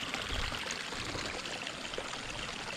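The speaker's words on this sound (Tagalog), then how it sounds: "Tuloy-tuloy po ang tubig yan." Steady, unbroken rush of irrigation water pouring into a rice paddy, a dense even splashing that holds at the same level throughout with no voices.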